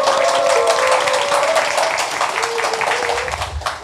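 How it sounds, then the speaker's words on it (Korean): A studio audience at a Korean talk show claps loudly and steadily, with a musical tone and a voice faintly mixed in as the applause fades toward the end. "여러분의 힘찬 박수와 함께 시작하겠습니다"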